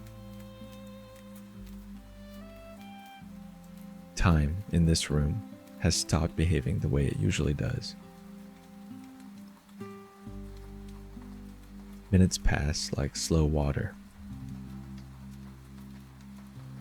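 Soft, steady rain falling outside an old Irish café on a quiet evening, a gentle continuous patter beneath a calm narrating voice and low, sustained tonal music.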